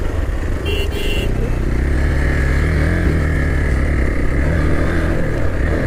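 A motorcycle engine runs steadily and loud throughout, a continuous low drone close by at a crowded spot, with a brief higher tone near the start.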